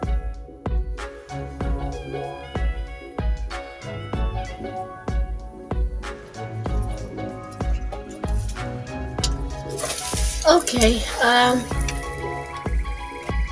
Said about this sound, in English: I hope you can hear me while I'm busy trying to water these guys